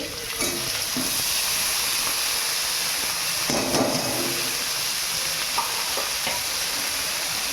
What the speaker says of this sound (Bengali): এবার আমি আলুগুলো ফেলে দেবো এর মধ্যে।